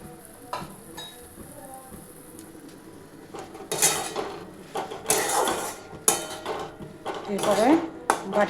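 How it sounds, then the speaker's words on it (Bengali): A bowl being washed in a home kitchen while cooking prawns with poppy seed: scattered clinks and knocks of dishware, then louder bursts of scrubbing, splashing and clattering close by. "এরপরে বাটিটা ধুয়ে নিচ্ছি, বাটিটা ধুয়ে একটু জল দিয়ে দিচ্ছি"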